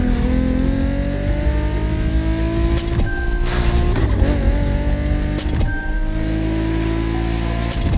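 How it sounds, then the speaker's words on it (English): A BMW Z4 M40i roadster in the racing game The Crew Motorfest revs and accelerates hard, its engine pitch climbing through gear shifts with loud, continuous motor noise and no talk. "We have prepared a classic for you from a very famous German brand, the BMW Z4 M40i."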